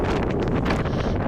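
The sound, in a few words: strong wind blowing rainwater at a monsoon waterfall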